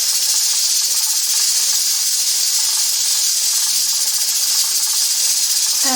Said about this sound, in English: I'm browning the burger